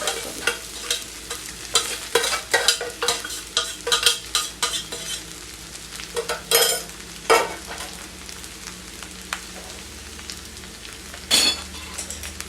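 Sabudana khichdi with peanuts being stirred in a pan over a low flame, giving a steady close sizzle broken by repeated scraping, stirring strokes and clinks, with quieter gaps between them.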